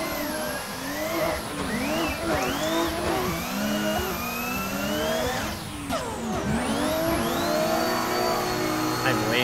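Engine of an ESDA-built Volkswagen GTI revving and shifting while driving, pitch sweeping up and down repeatedly, loud and close with tyre and road noise, voices faintly under it.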